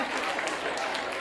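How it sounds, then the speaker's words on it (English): Workshop participants at a Chicago content-marketing event clap for themselves in a short, dense burst of applause, close and steady, with voices mixed in. "Give yourselves a nice round of applause"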